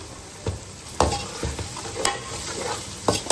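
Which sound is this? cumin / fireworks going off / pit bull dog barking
cumin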